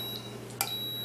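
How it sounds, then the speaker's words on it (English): A waffle iron gives a faint, high-pitched electronic ready beep that holds as a steady tone, with a brief click partway through. "That's the sound of my beeper telling me it's ready to go."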